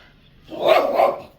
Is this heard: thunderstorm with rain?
no